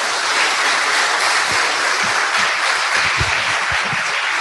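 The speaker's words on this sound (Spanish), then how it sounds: "un aplauso para nuestro expositor de esta noche" Evening lecture audience applauding the speaker after a talk on dams and the environment, loud continuous clapping filling the room throughout, with a few low thumps and shuffles beneath.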